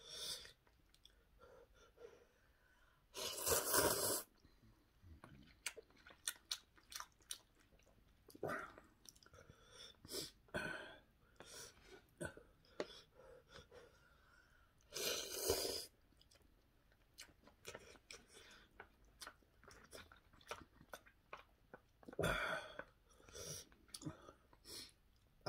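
Someone eats ramyeon noodles in a mukbang, with soft, close chewing and wet mouth clicks. Loud slurps come in bursts. There is no talking.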